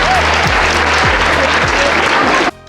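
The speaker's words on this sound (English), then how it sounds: "Of course, everyone started clapping" Crowd applauding at a horse show, a dense, loud wash of clapping from many people that cuts off abruptly near the end, with a low engine-like hum sweeping underneath.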